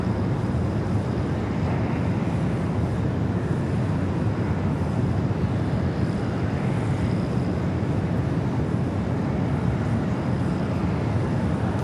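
A heavy Airbus cargo jet lands on runway 25 left at LAX, a constant broadband jet roar with deep rumble holding steadily throughout, heard from a distance under light wind noise with no talk.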